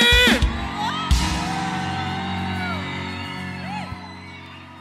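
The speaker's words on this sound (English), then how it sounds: "Let me hear you scream!" A crowd at a live praise concert screams and cheers, with loud whoops and yells that swell at the start and then trail off, heard alone without talk.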